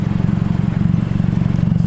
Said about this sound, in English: just a few revs, just a muffler delete with straight pipes